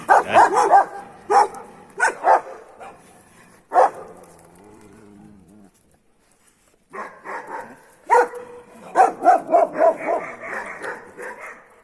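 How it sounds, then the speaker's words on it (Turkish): A small street dog barks sharply and repeatedly in rapid bursts during a street dog fight, close and loud, with yips and a brief whimpering pause in the middle. "Kızan şu küçük köpek"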